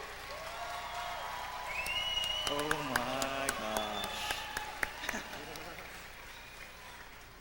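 Audience at a university luau cheering and clapping, a sustained crowd roar with scattered sharp claps and whoops, while people talk excitedly over it.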